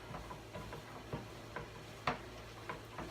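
Colourful autumn vegetables with chanterelle mushrooms sauté in a pan for a vegan stuffing, with a quiet, soft sizzle under a series of light spoon taps and stirring knocks spaced about half a second apart.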